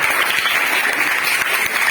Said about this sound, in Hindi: चलिए सभी बच्चे, इन चारों बच्चों को तालियां बजा दीजिए।